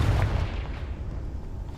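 A Confringo spell blast in Hogwarts Legacy goes off as a deep, loud boom that fades into a rumbling tail over under two seconds, with no talk.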